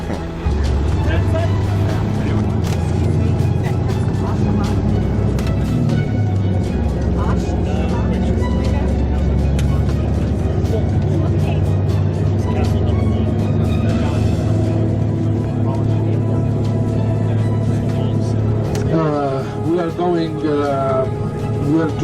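A vehicle driving beside the King's Highway near Petra, heard from inside as a constant, loud engine and road drone while people talk throughout.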